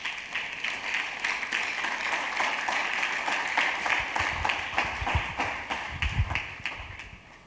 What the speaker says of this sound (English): Clap for Jesus, everybody